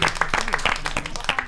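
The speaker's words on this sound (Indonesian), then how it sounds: "tepuk tangan dulu dong" A small studio audience at a quiz show between university teams gives a short burst of clapping, with a few distinct sharp claps and a voice talking over it.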